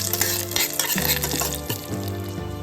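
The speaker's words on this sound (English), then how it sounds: "half teaspoon of mustard seed. Let it crack. Few curry leaves, 2 pieces of dry red chilies." A tempering of mustard seeds, curry leaves and dry red chilies frying in oil for mint chutney, a brisk sizzle and crackle heard under prominent background music.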